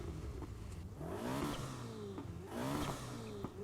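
A Ferrari engine revving in the racing game Need for Speed Heat, rising in pitch through two strong accelerating pulls, with the whine climbing and falling back between them and no voices over it.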